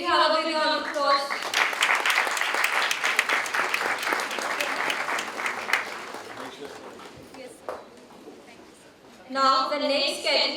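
An audience at a moot court competition's valedictory award ceremony gives a sustained round of applause that fades out over several seconds. An announcer's voice comes in at the start and again at the end.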